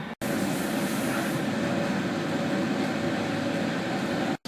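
A German train in motion gives a steady interior rumble and hum, with a continuous low roar and faint rattling heard from inside the carriage, briefly cut at start and end.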